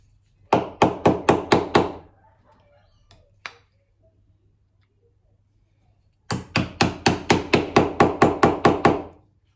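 A mallet strikes a chisel to chop a dovetail into a wooden lipped drawer: a quick run of about six sharp, loud knocks, a pause with a couple of faint taps, then a longer steady run of about a dozen blows.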